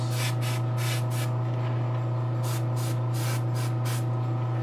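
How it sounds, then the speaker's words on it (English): An airbrush or spray gun lays paint onto a Giganta figure in short hissing bursts, first a quick series and then a longer cluster, over a steady low compressor hum. "I'm going to spray heavy into the cup areas."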